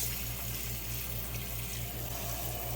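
Warm tap water pours steadily into a portable washing machine drum with clothing and detergent inside, a continuous near, moderately loud rushing flow with a low hum beneath it.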